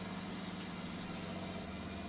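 A tractor engine idles in the Farming Simulator 19 video game, a steady low droning hum that holds constant throughout at moderate volume, with no other sounds over it.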